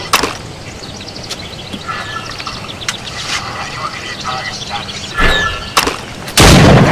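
Gunshots ring out at targets in the Assassin's Creed Rogue video game, sharp bursts scattered through the stretch with a heavy blast at the end, while a character talks over the shooting.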